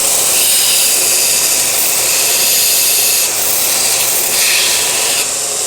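An axe edge ground on the big 8-inch contact wheel of a grinder gives a loud, steady, harsh grinding hiss that runs without a break, with slight changes in pressure and no talking.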